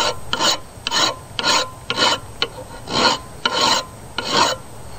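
A metal hand file rasps across a rusty steel file in eight firm strokes with short pauses between them, the scraping loud and close with no talking.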